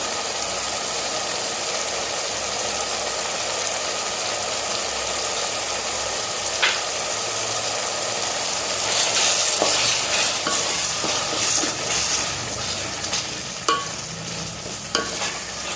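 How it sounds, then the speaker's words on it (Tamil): Tomatoes and salt sautéing in hot oil in a pan for prawn biryani, a steady low sizzle and frying hiss with occasional stirring scrapes and clinks growing busier partway through, no voices. "தக்காளி சேர்த்ததுக்கப்புறம் அதுக்கு தேவையான அளவு உப்பு சேர்த்து தக்காளியை நல்லா வதக்கிக்கலாம்."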